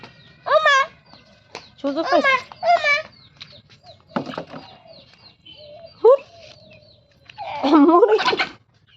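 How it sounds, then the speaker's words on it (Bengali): Chickens at a village family home cluck in several short, bright bursts spread across the stretch, fairly close and clear, with quiet gaps and low background murmur between calls. "মুরগি"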